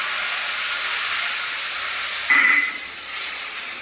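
Hot oil with fried five-spice seeds hisses steadily in a pan. About a bowl of water is then poured in, sending up a sudden louder burst of sizzling steam that gradually settles back.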